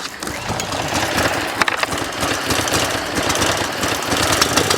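A Troy-Bilt 2700 PSI gas pressure washer engine runs loud and close, a steady rough chugging drone with knocking pulses, which has a water leak and low-pressure fault.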